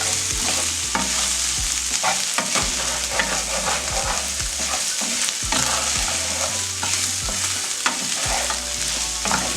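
Onions and beef cubes sizzle in a pot for beef stew over medium heat, a close, steady frying hiss broken by repeated scraping strokes of a spoon stirring through the pan.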